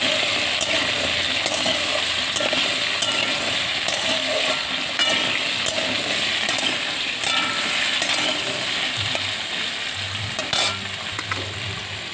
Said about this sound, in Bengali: আলুগুলো লাল লাল করে ভেজে নেওয়ার পরে পেঁয়াজ কুচি দিয়ে দেবো।